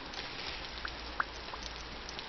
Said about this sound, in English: So the rain is a little bit annoying.